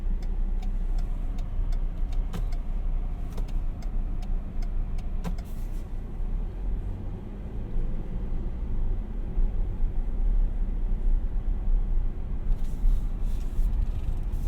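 A 2021 Ford Ranger XLT's turn signal ticks in a steady, quick rhythm inside the cab, clear over a low engine and road hum that continues after the clicking stops.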